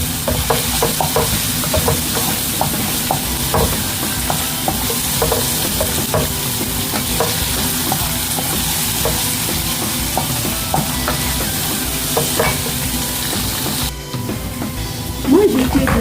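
Onions sauté in a pan with a loud, continuous sizzle and frequent stirring scrapes, the frying hiss steady from start to finish.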